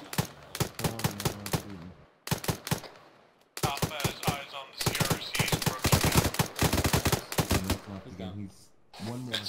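Sharp, rapid bursts of rifle and machine gun fire crack in a military shooter game, in volleys separated by brief pauses, loud and close over a noisy battlefield.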